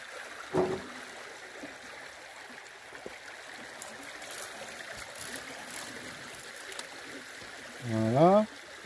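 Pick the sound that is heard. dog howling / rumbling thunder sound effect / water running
water running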